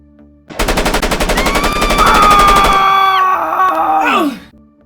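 Rapid machine-gun fire rattles for about two seconds in a 1951 crime film as gangster John Dillinger is gunned down, followed by a loud groaning cry that trails off.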